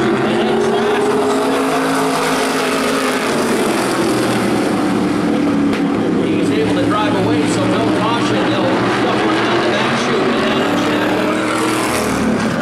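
Modified race cars roar around an oval speedway, engines droning and swelling continuously as the pack passes, with a commentator talking over the loud, sustained racing noise.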